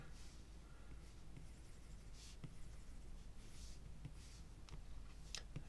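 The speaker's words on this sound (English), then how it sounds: "We'll sketch those in here." Pencil sketching a baby's face on paper: soft continuous scratchy strokes with occasional light taps and clicks, close and quiet, no talking.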